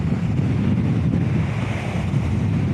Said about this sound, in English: Look at the sea. It is so choppy.